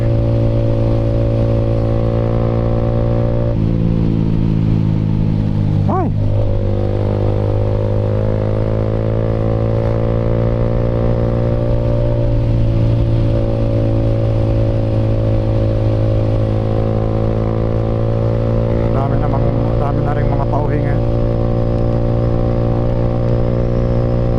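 Steady Honda NS200 motorcycle engine drone throughout on the road from Bicol to Manila, with passing motorcycle engines rising and falling nearby, a brief clatter midway.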